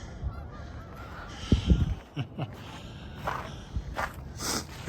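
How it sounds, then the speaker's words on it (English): Canada geese honking near a lake in Regina before sunrise in December, a cluster of loud nearby calls in the middle, a few fainter honks later, with footsteps crunching underneath. "There are geese over there."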